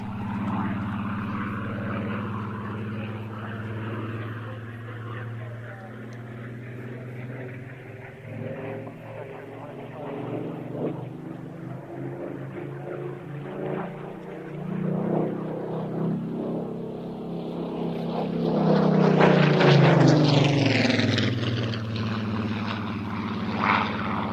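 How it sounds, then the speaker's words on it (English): A Spitfire's piston engine drones with a deep propeller rumble, swelling louder as it passes close, then easing off, no voices. "enjoy the sound of this Spitfire"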